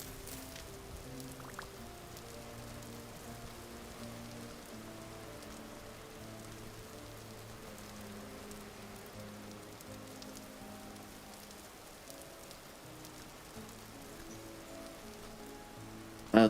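Steady rain falls in the survival game Vintage Story, a soft continuous hiss running the whole time beneath sustained background music.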